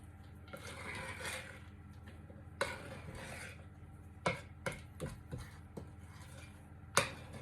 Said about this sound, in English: I'm going to fold the chocolate chunks in. Just fold them in.